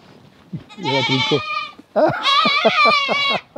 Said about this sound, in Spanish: Esta es mi, esta es mi cabra del alma